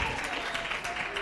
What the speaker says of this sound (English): And we can welcome her with a round of applause.